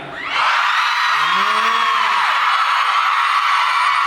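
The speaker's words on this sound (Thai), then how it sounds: "แล้วก็อยากได้ยินเสียงกรี๊ดหน่อยครับ" Fans at a Thai actor's fanmeeting let out a loud, sustained crowd scream that swells quickly and holds at full strength, with higher voices arcing over the roar.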